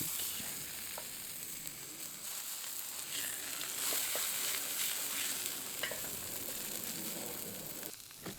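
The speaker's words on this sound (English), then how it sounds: "We're going to render the fats. And then flip our steak." Steak fries in a pan as its fat renders, giving a continuous crackling sizzle with scattered pops and light scraping. It stays fairly quiet and steady throughout with no voices.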